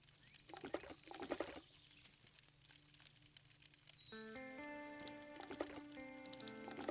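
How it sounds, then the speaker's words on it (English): Water being cooked in the video game Above Snakes makes a soft liquid pouring and bubbling sound, quiet and steady, before layered chime-like game tones come in. "Let's also cook up this water."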